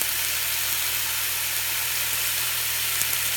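Pot roast meat searing in a hot pan gives a steady, even high sizzle, close and continuous with no talking.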